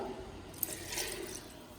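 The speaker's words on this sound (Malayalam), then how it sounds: "അത് ഒഴിക്കുക കേട്ടോ, പരിപ്പിൻ്റെ വെള്ളം" Lentil cooking water is poured into a pot of Kerala-style rasam, giving a brief, steady splashing pour that is close and fairly soft throughout.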